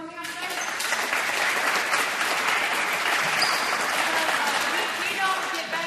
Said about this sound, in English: let's all give them a round of applause for coming out today